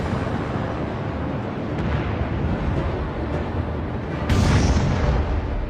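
Naval gunfire from the Bismarck's 38 cm guns shelling the Hood in German wartime archival footage, a steady distant rumble with a sharper, louder blast near the end.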